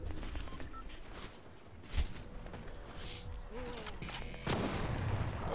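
Gunfire in the video game Fortnite, with scattered shots and a sharp crack near the middle and a louder burst of fire toward the end over a steady background of game noise.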